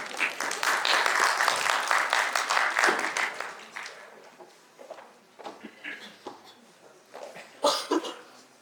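An audience applauds a woman doctor introduced at a medical talk on gynaecological disorders, the clapping dense and loud for about three seconds before thinning into scattered claps, shuffling and a cough.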